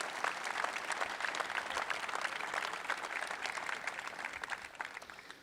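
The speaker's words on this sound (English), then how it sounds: "Let's give a round of applause for that accomplishment." Sustained audience applause at a Cradle of Coaches induction and statue dedication honoring the McVay family, dense even clapping that holds steady and tapers slightly at the end.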